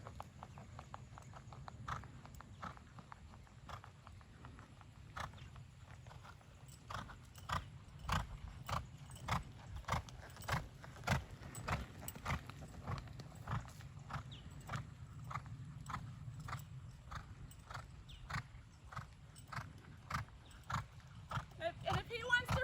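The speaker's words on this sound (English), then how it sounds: "I'm gonna lope him just a couple circles here." A horse loping in circles: a steady, rhythmic clip-clop of hooves, close and clear, repeating through the whole stretch, with faint background noise.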